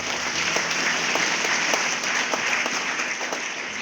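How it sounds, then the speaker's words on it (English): An audience at a university orientation gives a round of applause for the weekend's speakers, a loud, sustained crowd clapping with a few sharper individual claps standing out near the front. "we can give a round of applause to the speakers who will be here with us for the weekend"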